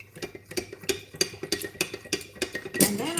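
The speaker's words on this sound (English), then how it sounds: "mix them well." A spoon stirs syrup into a mixture in a bowl, the metal clinking against the sides in a steady, rhythmic run of close taps, followed by a brief louder clatter near the end.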